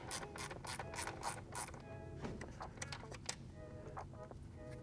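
A T20 Torx ratchet clicks in quick bursts while loosening fasteners on a BMW B58 engine during oil filter housing work, the faint mechanical ticking coming in short runs with pauses between them.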